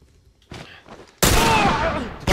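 Gunfire in The Last of Us video game: a loud, sharp shot with a long ringing decay, following brief muffled sounds, with another report starting at the very end.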